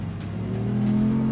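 Audi R8 with a naturally aspirated engine roaring while drifting, a steady loud rising engine drone heard close without speech.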